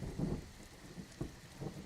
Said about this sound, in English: Probably have to wait for the rain to die down.